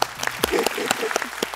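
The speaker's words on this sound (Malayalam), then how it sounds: "അപ്പൊ ഒരു വലിയ കയ്യടി" A studio audience at a televised musical reality singing competition breaks into a short burst of applause, clapping loud and close over a brief spoken remark from a host.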